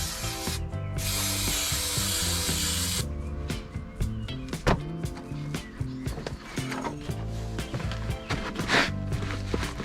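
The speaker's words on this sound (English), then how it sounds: "I'm going to use that spray-on adhesive, which I've been using for the auto carpet" Spray-on adhesive hisses from an aerosol can in a steady burst for a few seconds during a Vauxhall Vivaro camper build, followed by quieter rubbing and handling noises nearby.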